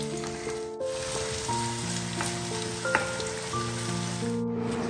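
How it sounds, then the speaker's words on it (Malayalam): Onions frying in ghee and sunflower oil for a Ramadan beef biriyani give a steady, close sizzle with light crackle throughout, plus a few soft utensil taps and no talking. "അപ്പോൾ ഈ ടൈമിൽ നമുക്ക് നമ്മുടെ സവോള വറുത്തെടുക്കാം."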